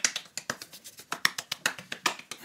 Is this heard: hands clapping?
yes